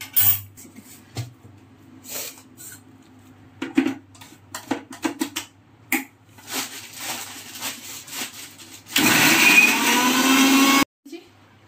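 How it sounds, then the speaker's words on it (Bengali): A mixer grinder whirs for a couple of seconds, blending boiled yardlong beans and shrimp into a paste, after scattered clatter of the jar being loaded and set in place; someone talks before the motor starts. "এবার আমি এটাকে জলটাকে ছেঁকে নিয়ে আমি মিক্সির বাটিতে দিয়ে দিলাম। সব একসঙ্গে পেস্ট হবে"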